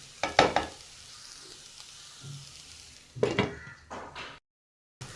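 Snake gourd thoran sizzles softly in a pan that is being covered, with a few sharp clatters of stirring and the lid, then cutting to silence.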